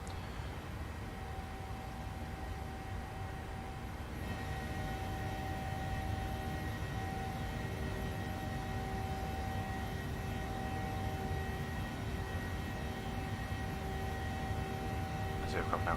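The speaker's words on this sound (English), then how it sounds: "The aircraft now climbs up for 220 up to 2501 hour speed." PMDG 737-800 airliner in Microsoft Flight Simulator climbing after takeoff, a steady broadband engine and airflow drone with faint tonal whine, continuous and even throughout.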